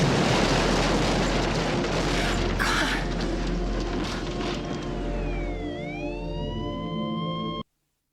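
Explosion from a Six Million Dollar Man film scene: a dense, loud, sustained roar of rumbling noise with a brief bright burst, followed by rising and falling whistling tones before cutting to silence.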